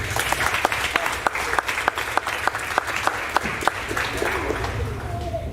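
Applause from an audience at a middle school award ceremony honoring honor roll students, a steady patter of many hands with a few sharp individual claps standing out, fairly close and continuous, with a voice briefly audible near the end.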